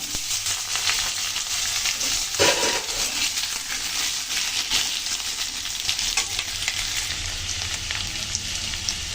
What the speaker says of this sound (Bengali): এখন আমি পেঁপেগুলো একটু আগে থেকে ভেজে নেব।